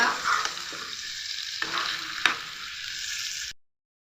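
Tomato and spices sizzle and fry in a pan while being stirred, with steady close hiss and a few scraping stir strokes, no talk.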